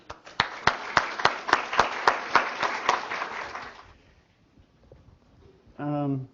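An audience welcomes lecturer Dr. David Richo with a burst of clapping that fades after about four seconds, followed by a short spoken sound near the end.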